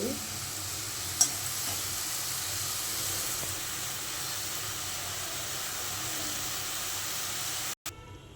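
Spiced fish curry simmering after water is poured into the hot pan, a steady, even sizzle and hiss that fills the whole stretch, with one brief clink early on and a sudden cut near the end.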